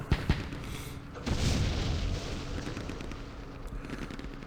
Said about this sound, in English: The mortars are very effective